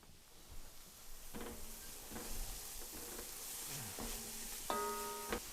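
Stuffing with fresh chopped parsley is stirred in a hot pan, a steady soft sizzle running throughout with a few scattered clinks and scrapes of the utensil against the pan.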